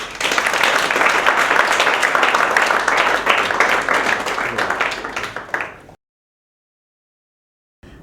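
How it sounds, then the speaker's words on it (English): An audience applauds with dense, sustained clapping for several seconds, fading out abruptly into silence before a faint sound returns at the end. "can we give Tony a round of applause?"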